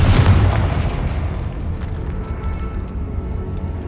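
A Confringo blast spell explodes in Hogwarts Legacy, a loud booming burst at the start that rolls off into a long, dense rumbling decay.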